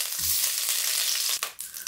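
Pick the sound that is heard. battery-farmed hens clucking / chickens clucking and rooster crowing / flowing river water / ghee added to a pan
ghee added to a pan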